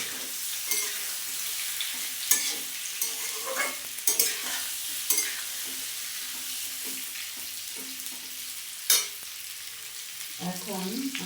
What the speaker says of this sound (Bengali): এখন আমি ভালো করে তেলটার মধ্যে নাড়াচাড়া করে নেব